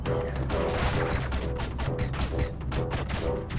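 Quick repeated shots and clattering mechanical impacts from the pixel-art adventure game Owlboy fire in a dense, rapid rhythm, loud and continuous over a low droning background.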